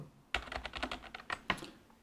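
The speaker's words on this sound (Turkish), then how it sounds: "Şu an klavyenin sesini dinleteyim çünkü genelde insanlar mekanik klavyeleri sesi için alıyor." Keys clatter on a Gamebooster G59k mechanical keyboard in a quick, uneven run of crisp clicks, close and clear, with no talking over them.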